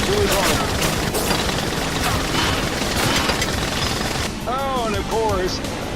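Rapid video-game gunfire from two shooters, dense crackling bursts running nearly nonstop over six seconds with a voice talking throughout and some chirpy game effects near the end.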